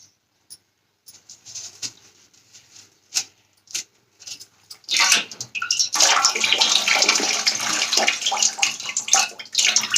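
Carrots are rinsed by hand under running water, first as scattered splashes and clatters, then a steady, close gush from about the midpoint onward.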